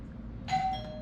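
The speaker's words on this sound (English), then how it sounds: "Oh no, it ding dongs." A doorbell rings once with a bright ding-dong chime, loud and close, against a low steady background hum in a house.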